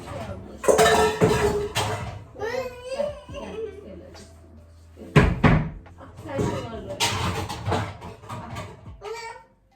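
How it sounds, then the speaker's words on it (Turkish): Dishes are being arranged in a home kitchen, with plates and cutlery clattering and cupboard doors knocking in bursts, close by, amid a woman's and child's speech. "Bulaşıkları dizelim mi"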